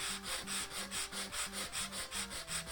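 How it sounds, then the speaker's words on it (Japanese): Wooden workpiece being shaped by hand with a file for a homemade wooden PC case, steady rhythmic rasping strokes roughly every third of a second, close and even, no voices. "図面を印刷して木材に貼り付け、ちょうど良い大きさにヤスリで整えます"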